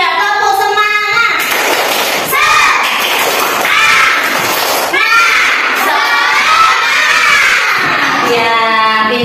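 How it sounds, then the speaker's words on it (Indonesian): A school class performs the tepuk semangat clapping chant, children's voices shouting and chanting in rhythm with bursts of claps and thuds, loud and close, with a teacher's voice at the start and end. "1, 2, 3, tepuk semangat."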